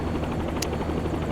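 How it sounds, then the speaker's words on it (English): A helicopter flies in the X-Plane flight simulator, its rotor and engine drone steady and close, with a brief high click partway through. "flying a helicopter in X-Plane"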